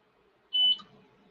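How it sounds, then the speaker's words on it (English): An xTool F1 Ultra laser engraver gives a single short, clear electronic beep at the end of an engraving job, standing out over quiet background room noise. "And the beep means we're done."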